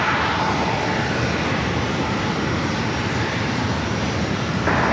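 Corporate jets approach runway 27 at San Diego airport, producing a loud, continuous engine roar that holds steady throughout without speech.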